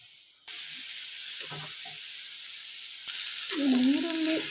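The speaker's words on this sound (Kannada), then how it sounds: "ಅದೇ ಹಂಚಲ್ಲೇ ಮತ್ತೆ ಈರುಳ್ಳಿ, ಟೊಮೆಟೊ ಹುರ್ಕೊಳ್ಬೇಕು." Onion and tomato roasting in the same pan after the spices for a dal saaru, a steady soft sizzle starting after a brief quiet moment and growing a little louder, with a short voiced sound near the end.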